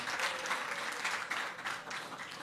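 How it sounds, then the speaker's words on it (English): Audience applause follows the introduction of an artist at a community resilience event, a steady dense patter of many hands clapping close by for a couple of seconds with no talking over it. "A round of applause for him"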